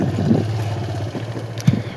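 A tractor engine ploughing a paddy field in Telangana runs in a steady low mid-distance rumble with light clatter and a brief knock near the end, no voices.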